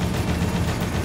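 Tank cannon fire in a Dead Rising boss fight, a video game, comes as a dense, continuous rumbling roar of heavy blasts, loud and close with no gaps.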